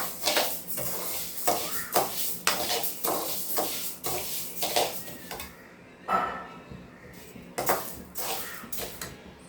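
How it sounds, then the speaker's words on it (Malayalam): Green gram roasting in a pan for payasam, stirred with a spoon that scrapes and clatters against the metal in repeated rhythmic strokes, close and clear with short pauses between. "ഇത് നന്നായി ചോക്ക വറക്കണം."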